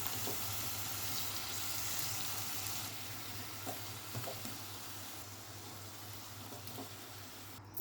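Potato pieces added to chicken frying in a pan for an Andhra-style potato chicken curry, giving a soft, steady sizzle with a few faint clinks and drops, quiet and continuous with no talk.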